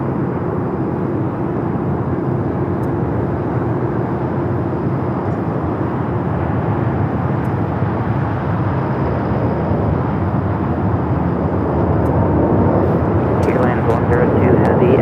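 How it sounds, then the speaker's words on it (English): An American Airlines Dreamliner jet rolls down runway 25 right at Los Angeles International Airport, a loud, steady, continuous engine roar that holds for the whole stretch and swells slightly near the end. "American Dreamliner now rolling down to 25 at right."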